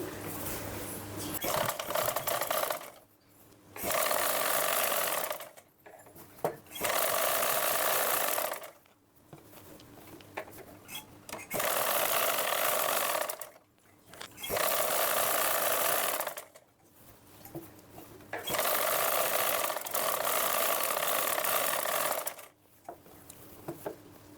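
A sewing machine stitches piping onto a lined blouse, running in several bursts of a few seconds each, separated by short pauses, loud and close with no talking.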